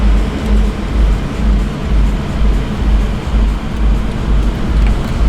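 A Mercedes-AMG C63 W204 rumbles along a street, a deep engine drone swelling and easing in a steady pulse, heard from inside the car with road noise underneath.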